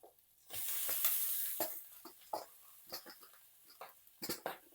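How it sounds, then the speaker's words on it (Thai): Pork and vegetables stir-fried for Thai dry sukiyaki over medium heat: a close, quiet sizzle bursts up, then scattered scraping stirs and clatters of a spatula in the pan. "ดียีเราผัดรวมไปกับหมูเลย"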